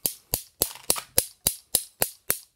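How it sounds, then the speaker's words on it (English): Bastl Instruments solenoid module striking in a steady pulse, nine sharp, dry mechanical clicks evenly spaced about a third of a second apart, close and clear with silence between hits. "You can have four different solenoids on one model, like you hear now."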